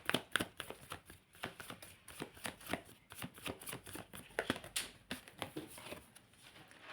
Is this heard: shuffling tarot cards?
yes